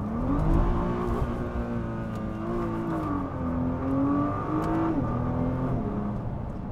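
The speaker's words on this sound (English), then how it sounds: "I'm going to take you for a lap of the Assen TT circuit in this Nissan GTR" A Nissan GTR drives hard around the Assen TT circuit, its engine a steady loud in-cabin drone whose pitch rises and dips through gear changes and throttle shifts.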